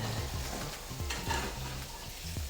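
Food sizzling steadily in a frying pan right after being flipped, a close continuous crackle with light scraping and stirring over the hiss, with no talking.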